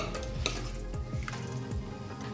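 A spoon stirs bottle gourd and lentil curry in a pan, giving soft repeated scrapes and clinks against the metal over a low, steady sizzle, close and quiet with no talking.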